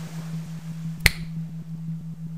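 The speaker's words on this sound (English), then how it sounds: "I will snap my fingers" A single sharp finger snap, close and distinct, sounding once over a steady low hum with faint rhythmic pulses of binaural beats in a quiet hypnosis setting.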